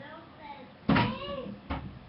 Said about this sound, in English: my kid's knocking at the door